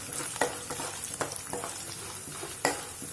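Chana dal frying in oil in a pan while a curry base is cooked, a steady soft sizzle with a few sharp stirring clicks scattered through it.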